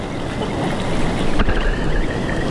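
Strong river current rushing steadily in a wild Mexican river, a loud broadband roar of churning water with no voices.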